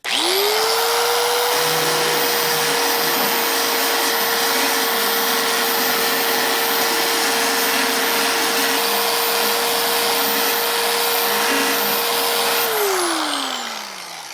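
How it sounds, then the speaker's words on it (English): Bauer belt sander from Harbor Freight grinding down a weld inside a car door, a loud, steady motor whine that spins up at the start, holds continuously with grinding contact underneath, then winds down at the end. "This tool works great for detail work like this, where you got to get in there, ground that weld right down."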